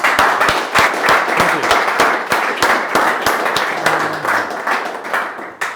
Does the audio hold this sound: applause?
yes